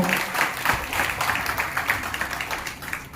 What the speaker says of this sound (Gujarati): એને ખૂબ ખૂબ તાળીઓથી વધાવજો